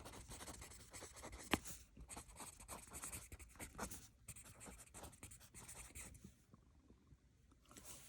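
A pen scratches steadily across paper, writing out words by hand in a quiet close-up of soft, continuous scraping strokes, with one sharp tick partway through.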